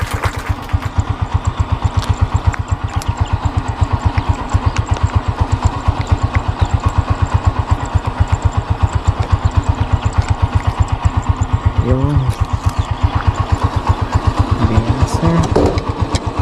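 A motorcycle engine idles steadily for the whole stretch, its even low chugging pulse close and constant while someone talks briefly over it during a stop on a riverside airgun fishing outing.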